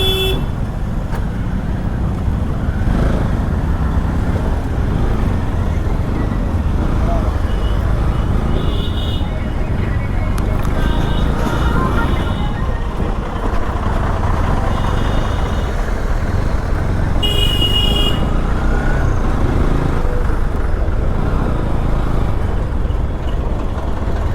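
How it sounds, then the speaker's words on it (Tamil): Dense road traffic on a highway in India fills the air with a steady roar of cars, trucks and buses, broken by repeated horn toots, while people talk over the noise. "என்ன இவ்வளோ டிராஃபிக்காக இருக்குது?"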